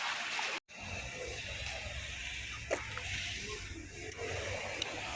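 Water flows steadily in the Otaru canal in Japan, a continuous broad rushing wash that is heard outdoors, with a brief dropout near the start and faint city background.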